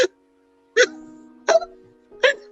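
A voice playing a stick-puppet elephant imitates hiccups: three short, sharp vocal hiccups spaced evenly about three-quarters of a second apart, close and clear against silence.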